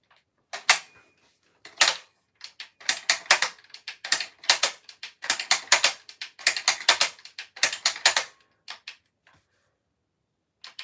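A damaged gun's trigger worked over and over, giving bursts of dry mechanical clicks and ratcheting snaps in uneven clusters with short silences between, close and crisp.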